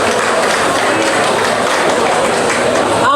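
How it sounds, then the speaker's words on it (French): A gala audience in Montreal applauds the secretary general with dense, loud, continuous clapping that fills the whole stretch without a break. "sous vos applaudissements."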